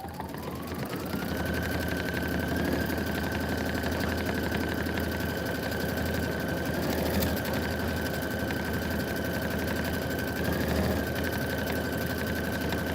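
An embroidery-capable sewing machine stitches a Kimberbell quilt section, its motor whirring up to a steady rapid needle chatter that runs continuously at close range, with a couple of brief dips in pitch and no talking.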